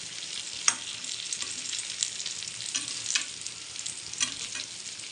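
Stuffed brinjal and okra frying in a pan are stirred with a steady sizzle, while a few sharper scrapes of the spoon against the pan stand out close up.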